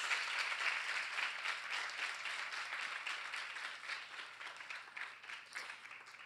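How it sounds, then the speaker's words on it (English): An audience applauding for the gurus at an interactive session on dance and other art forms, a steady wash of many hands clapping, fairly distant and soft, slowly thinning toward the end. "I think we owe this clap to all the gurus around us."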